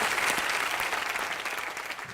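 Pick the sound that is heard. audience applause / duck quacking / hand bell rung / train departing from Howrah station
audience applause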